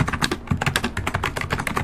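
Rapid typing on a Perixx PX-3200 keyboard with a UK layout during a typing test, a dense steady patter of close key clicks and thocks filling the moment with no talk.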